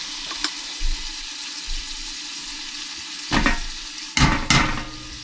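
Minced garlic fries in a soup pot for a basic mirepoix-based soup on a cabin stove, a low continuous sizzle broken by several loud stirring scrapes and clatters toward the end.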